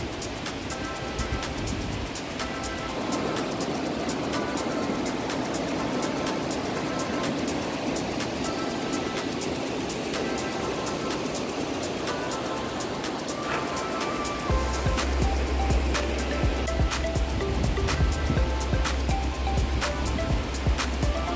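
A mountain river of clear Andean water flows steadily in Boconó, Venezuela, a broad continuous rush of water noise that holds evenly for the whole stretch with a low rumble joining toward the end.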